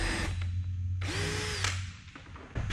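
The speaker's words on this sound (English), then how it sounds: "Always pre-drill." A power drill pre-drills holes while a river coffee table is being built, whirring steadily at close range in short bursts with brief pitch changes, with no talk over it.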